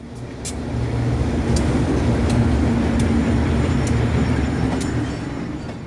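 A Green Bay and Western Railroad train passes close by on the New London Division, a loud sustained rumble of rolling wheels and engines that swells in and eases off, with a few sharp metallic clanks along the way.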